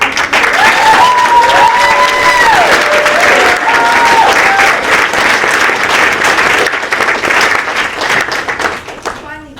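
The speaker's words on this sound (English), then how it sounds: "Said to give it a clap for stage crew and Miss Tillman." A theater audience claps in sustained, enthusiastic applause for a school stage play, with some cheering voices mixed in, fading away near the end.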